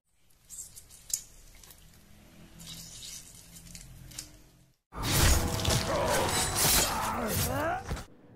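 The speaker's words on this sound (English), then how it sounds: "If you just add a little bit of gore, you can do with vegetables, you have some nice combat sounds." Vegetables are squished and crunched to make a gory combat sound effect for a sword fight. Soft rustling and small knocks give way to a loud, close, wet burst of crushing and tearing that lasts about three seconds.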